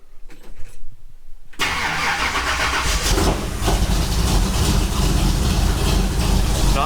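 A Ford Highboy truck engine cranks, fires and settles into a loud, steady running rumble close by after a brief quiet start.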